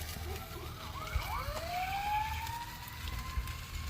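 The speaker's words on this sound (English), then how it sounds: "I don't know if it's a fire truck or ambulance" An emergency siren, a fire truck or ambulance, wails in the distance, rising and sweeping over steady low outdoor rumble beside a barbecue smoker, no speech.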